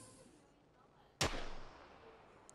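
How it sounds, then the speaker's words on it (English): A single sharp gunshot rings out in a first-person shooter where an enemy carries a sniper rifle, a loud crack with a trailing decay after quiet background ambience. "Is that you shooting at him?"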